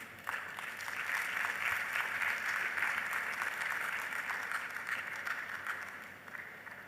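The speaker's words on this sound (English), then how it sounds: "Another round of applause for Peter, please" Audience applause at the ICASA 2025 conference after a presentation, a sustained, fairly quiet wash of many hands clapping at a distance, steady throughout and tapering slightly at the end.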